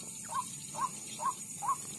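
White-breasted waterhen (ruak-ruak) calling at night, four evenly spaced short squeaky notes over a steady background hiss, faint and distant.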